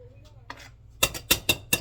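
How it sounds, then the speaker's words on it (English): Strawberries are chopped for jam with a knife on a board: four sharp, close chops in quick succession after a brief voice and a few soft clicks. "I'm just cutting those up, a nice little chop, a chop down"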